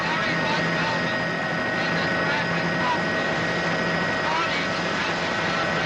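A steady, loud roar like helicopter cabin noise fills a radio traffic report during a 1980s late-night talk show segment, with a voice speaking over the engine din.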